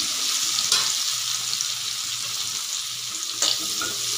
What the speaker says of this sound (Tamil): பெரிய வெங்காயம் பொடிசாக கட் பண்ணிட்டு கட் பண்ணி அதை போட்டுக்கலாம்.